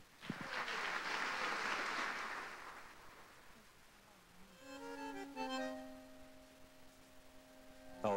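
A concert audience gives a heartfelt round of applause, a broad wash of clapping that swells and then fades, giving way to sustained instrumental tones playing alone.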